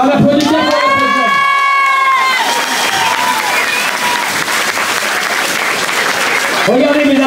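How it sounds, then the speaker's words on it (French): An event crowd at the Val de Lorraine 2024 prize giving applauds for the president, loud sustained clapping and cheering with a voice talking over it at the start and end. "on applaudit bien pour la présidente."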